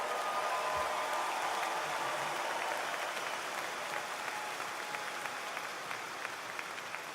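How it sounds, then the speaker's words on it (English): A convention crowd at a union gathering in Illinois breaks into sustained applause, a wide hiss of many hands clapping that stays even and then slowly fades, heard from a distance. "Give them another round of applause"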